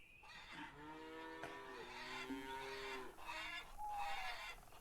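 A cow in Lumberjack's Dynasty lets out a long, low, drawn-out moo while being milked, quiet and fairly close, with a few shorter lowing calls after it.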